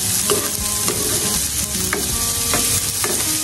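Garlic sizzles loudly in hot oil for sardines and misua, a constant close frying hiss broken by a few soft stirring knocks.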